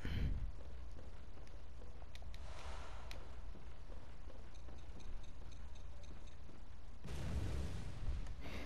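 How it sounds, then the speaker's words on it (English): Delayed Molotov going off in the video game Bloodborne, a faint burst at the very start, then a quiet stretch with small pops, before a louder, sustained fiery explosion erupts near the end. "we're going to do is throw down a delayed Molotov"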